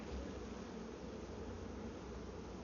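A honeybee swarm newly placed in a hive gives a steady, dense, low buzzing hum that holds evenly throughout, fairly soft and with no voices.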